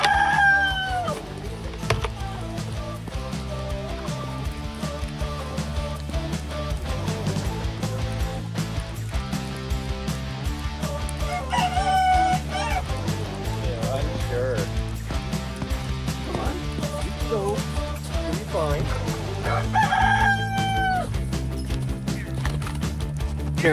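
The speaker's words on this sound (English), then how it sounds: "this is the second time that the chickens have seen snow this year" Chickens in a snowy winter run give several drawn-out crows and clucks at intervals over a steady, continuous background.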